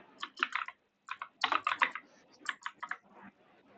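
Computer keyboard typing HTML code, close and crisp key clicks in uneven quick bursts separated by short pauses, with no talking over it.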